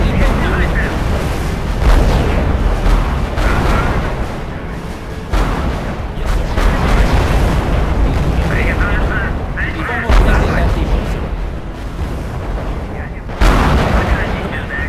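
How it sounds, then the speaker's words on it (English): Heavy artillery and gunfire from the real-time strategy game R.U.S.E. in a 2vs2 match: a dense, continuous barrage of booms and bursts with periodic loud impacts, while a voice delivers radio-style battle reports over the din. "Unit reports heavy fire."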